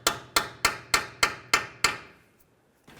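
A hammer taps a ball joint on the front lower control arm of a 2011-2017 Nissan Juke: seven sharp, evenly spaced metallic strikes, each ringing briefly, then a pause and a faint final knock.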